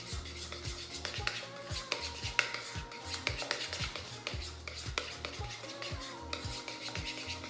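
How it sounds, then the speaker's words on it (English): A utensil briskly stirs a lime juice mixture in a bowl, producing rapid rhythmic scraping and clinking strokes, close and fairly clear, with no talking over it. "Stir that together"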